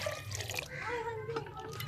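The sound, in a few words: water being poured into cooking pot for ojri recipe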